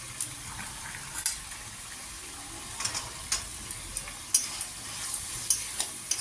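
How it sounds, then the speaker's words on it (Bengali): Green peas sizzle in hot oil with salt and turmeric in a pan, a soft steady frying hiss under faint scrapes and clicks of stirring, with no voices. "কষিয়ে তেলে একেবারে ভেজে নিলাম মটরশুঁটিটা।"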